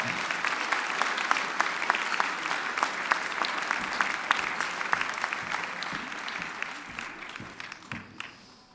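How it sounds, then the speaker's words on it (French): A dense wash of audience applause for two game-show finalists stays strong for most of its length, with a few sharper individual claps poking through, then thins out and fades near the end. "On les applaudit bien fort."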